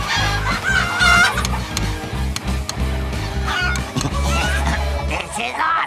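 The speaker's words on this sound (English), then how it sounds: "Well, plus the chickens." Chickens clucking in a Clarence cartoon scene at a new home, repeated close clucks and fowl calls over a busy backdrop of music and cartoon sound effects.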